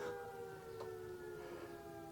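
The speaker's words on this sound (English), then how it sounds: "just as the fire siren goes off in the background" A fire siren wails steadily in the background, its long sustained tones rising and falling faintly under a quiet room where an Elna Supermatic 62C sewing machine is being powered on.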